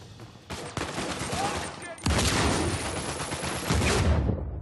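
Shotgun blasts and heavy gunfire from the video game Uncharted 4 burst loudly and densely throughout, with a sharp surge partway through and sounds of battle layered in.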